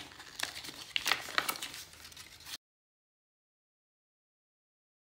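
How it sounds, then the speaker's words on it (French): Paper banknotes are slipped back into a paper envelope with a couple of seconds of close, soft crinkling and rustling, followed by silence. "Donc ça, je les remets dans l'enveloppe pour finir le mois."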